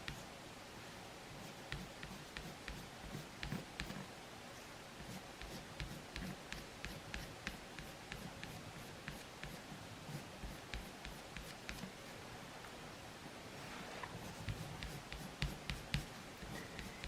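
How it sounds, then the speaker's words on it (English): Colored pencil strokes over pastel on paper make faint, quick scratchy taps and short scribbling rasps in an uneven rhythm, close and quiet, with no talk. "Now I'm just going to go over with some colored pencils to make it more realistic."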